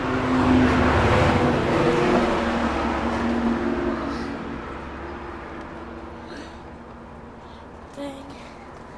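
A Suzuki RM85 two-stroke dirt bike with an FMF pipe running after a cold start, a steady loud engine drone that gradually fades lower and quieter, with a couple of faint knocks near the end.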